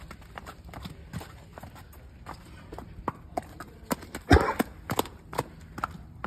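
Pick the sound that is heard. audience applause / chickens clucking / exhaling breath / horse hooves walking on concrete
horse hooves walking on concrete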